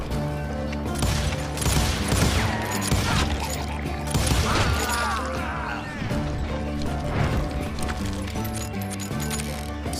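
Gunfire in the Call of Juarez Gunslinger video game, with repeated sharp shots and crashing impacts over a busy backdrop of clatter and game music, with a voice briefly heard in the mix.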